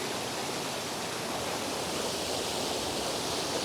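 Continuous rushing water from a wild hot spring, around 40 degrees, steady and full like a flowing stream or small cascade, close by with no pauses or voices.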